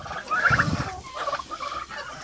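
Turkeys gobble and chatter nearby in a quick burst of warbling calls, with fainter gobbles following.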